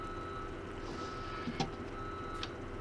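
A truck reverses in Farming Simulator 17, its backup alarm beeping steadily over a continuous engine drone, with a couple of brief clunks in the middle.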